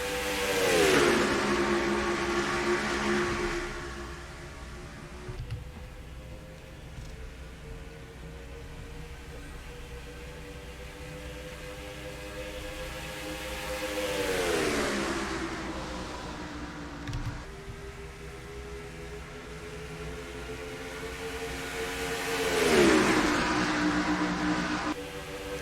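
Race cars in the NASCAR Racing 2003 game roar around Homestead-Miami Speedway, engines rising and falling in pitch as the pack sweeps past in three distinct surges over a constant drone.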